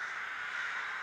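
Crows cawing in a city, a steady, fairly loud bird clamour that fills the short moment with no voices.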